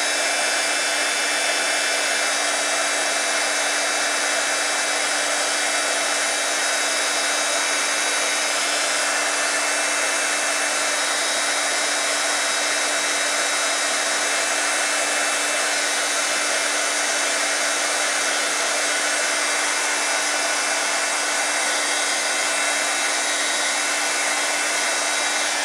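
Heat tool blowing a steady, even roar throughout while warming a glitter acetate sheet, with a constant hum and no talk.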